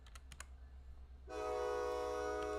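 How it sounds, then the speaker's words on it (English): A train rolls past, its loud tonal horn-like blare suddenly swelling in and holding steady after a few light keyboard taps, with no voices. "I'm going to mute for 1 second while the train goes by."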